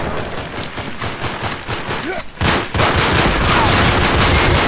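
Gunfire in a multiplayer match of Uncharted 3, with dense overlapping shots and loud blasts, a brief lull, then sustained heavy firing to the end.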